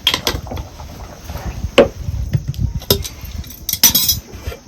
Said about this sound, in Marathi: हे असंच ताट ह्याच्यावरती झाकण ठेवते